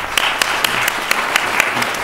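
An audience claps after a talk on measuring resilience, a loud, dense round of applause with sharp individual claps standing out, steady throughout with no voices over it.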